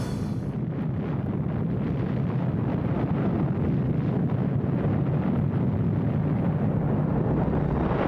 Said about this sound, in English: a bomb exploded in the American desert